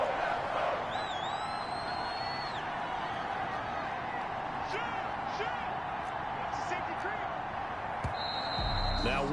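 A stadium crowd roars in a football video game, a dense constant wash of noise at a steady level, with whistle-like tones and brief thuds rising over it and a commentator talking throughout.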